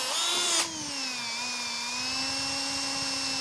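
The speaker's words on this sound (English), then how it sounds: "just take that pilot hole and then just continue drilling as we've done before" Power drill enlarging a pilot hole in a 2023 Jeep Gladiator body for an ARB Safari snorkel, a steady high whine that dips slightly in pitch as the bit bites into the metal, close and continuous.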